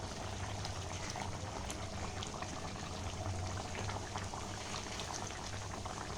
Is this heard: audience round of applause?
no